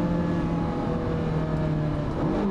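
A Ferrari 430 Scuderia V8 is driven out onto the Fiorano circuit for an exploratory lap, its engine a steady, loud, close drone with strong harmonics and a slight rise in pitch near the end.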